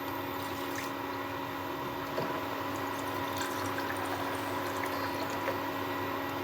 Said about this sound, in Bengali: আমি জল দিয়ে দিচ্ছি।